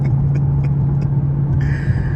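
Steady, loud engine drone and whine from a 2022 Dodge Challenger R/T Plus on a night drive, heard from inside the car as an even rumble with a thin high whine over it.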